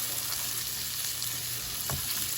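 Vegetables sautéing in a pan for a Cajun seafood alfredo, a steady close sizzle and crackle with a brief scrape of stirring near the end, no voices.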